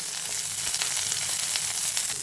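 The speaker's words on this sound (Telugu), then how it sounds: "జస్ట్ నూనెలో అట్లా వేగితే చాలు" Onions, crushed garlic and curry leaves fry in hot oil with mustard and cumin seeds, a dense, close hiss of crackling sizzle that holds steady and bright throughout.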